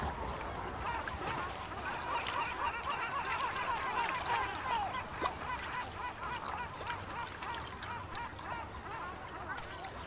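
A flock of flamingos in a Provence wetland park calls in a chorus of goose-like honks and nasal cackles, layered and moderately distant, running steadily throughout.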